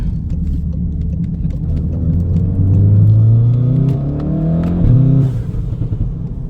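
Car engine revving hard as it accelerates out of a turn, pitch climbing steadily to a loud peak before easing off, with road rumble throughout and no talk.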